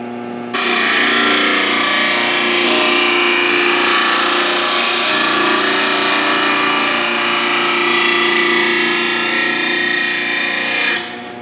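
A lawn mower blade pressed against a spinning coarse grinding stone throws sparks and makes a loud, harsh, continuous grinding whine. The tone wavers slightly for about ten seconds, then stops abruptly.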